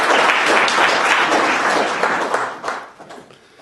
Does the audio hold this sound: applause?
yes